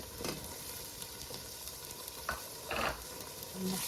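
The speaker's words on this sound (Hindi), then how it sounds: "मसाले की अच्छी तरह बुनाई" Masala of garlic, ginger, green chili and tomato sizzles steadily in a pan while being stirred, with scraping spoon strokes and clinks over the constant frying hiss.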